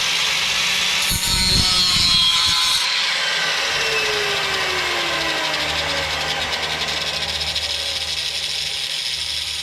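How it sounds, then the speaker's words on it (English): A power tool cuts through an exhaust tailpipe clamp under a car, giving a harsh continuous grinding whine with a brief louder rasp early on, steady and close with no talk. "The next thing I'm going to do is try to cut this clamp out of there."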